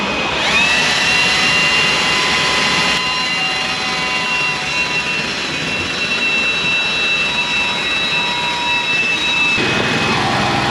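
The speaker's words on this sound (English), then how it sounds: "We're gonna blast her with the Turbo Cool 5000." A Turbo Cool 5000 cooling machine blasts at a motorhome, a loud steady roaring whoosh with high whining tones that holds for several seconds before dropping away.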